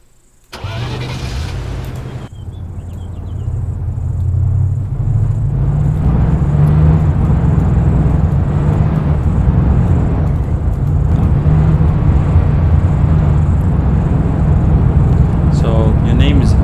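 A vehicle engine starts and then runs steadily as the vehicle drives with passengers inside, a loud continuous interior rumble lasting throughout, with people talking over it.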